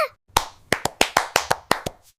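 A child claps at a toy robot with about nine sharp, close hand claps in an uneven rhythm, loud and clear with no talking.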